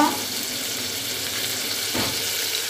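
Spices sizzle and fry in hot oil in a pan while masale bhat is being cooked, giving a steady, close crackling hiss with a brief stir near the end and no talk.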